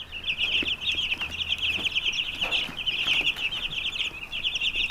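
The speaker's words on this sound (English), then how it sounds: "This is our next round of broiler chicks." A crowd of broiler chicks in a large 8-by-8-foot brooder coop keeps up dense, continuous high-pitched peeping, close and steady, with a few soft rustles beneath.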